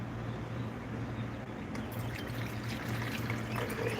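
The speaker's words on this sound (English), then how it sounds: "I will have to once again slide this coffee machine over this way so I can pour the water into it" Water poured into a coffee machine in a hotel room, a steady close pour with a low hum running beneath it.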